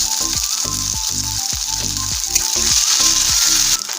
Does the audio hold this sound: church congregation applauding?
no